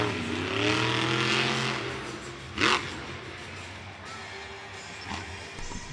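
The Lucas Stabilizer monster truck, known as the Honky Tonka, revs its engine at a Monster Jam stadium event in Nashville, with a rising and falling roar, a sharp burst midway, and loud arena ambience throughout.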